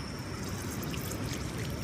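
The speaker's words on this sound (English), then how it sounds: "Turn on the hose." Garden hose running outdoors in Hawaii after a beach trip, a steady splashing pour of water throughout, fairly close and with no talk over it.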